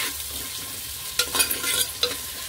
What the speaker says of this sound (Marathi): तर मी एक कांदा टाकलाय मोठा चिरून, याला चांगलं हलवून घ्यायचं आहे।